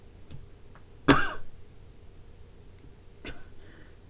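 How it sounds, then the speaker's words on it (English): A single sharp cough close to the mic, followed a couple of seconds later by a softer, shorter cough in an otherwise quiet room. "Had to cough."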